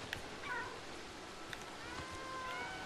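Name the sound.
cats meowing in the video game Stray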